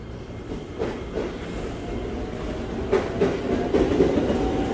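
A KRL Commuter Line electric train in new livery pulls into a station, with a steady low rumble, rhythmic wheel clatter and a faint squeal building as it rolls in nearby.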